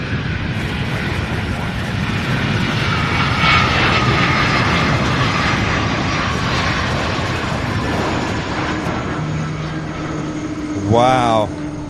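A McDonnell Douglas MD-11 jet roars loudly and steadily at Louisville's SDF airport, with a sharp rising turbine whine near the end.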